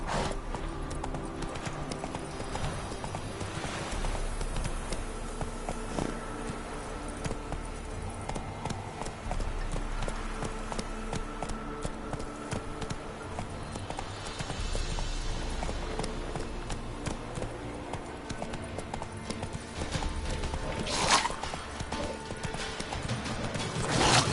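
Horse hooves clip-clop at a steady gallop through The Witcher 3 video game, rhythmic and continuous throughout, with occasional game sounds and a brief voice layered over the hoofbeats.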